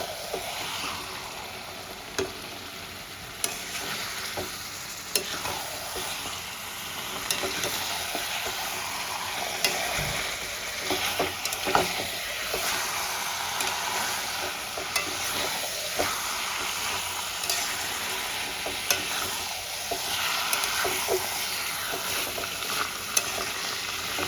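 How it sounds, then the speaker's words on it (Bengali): Chicken for a Kashmiri-style curry fries with spices in a pan over a high gas flame, a dense continuous sizzle broken by frequent spoon scrapes and taps as it is stirred, close and steady throughout. "চিকেনটা দিয়ে মশলার সঙ্গে গ্যাসের ফ্লেমটা আমি বাড়িয়ে দেব, ভালো করে কষিয়ে নেব।"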